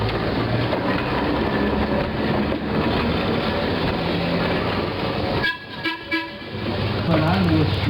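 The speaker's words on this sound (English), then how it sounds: "Tom's going to blow the whistle and pass in review" Loud, steady rumble of a TMER&L L7 trolley in a four-car train at the Illinois Railway Museum, with a high whistle toot near the end, heard over continuous mechanical noise.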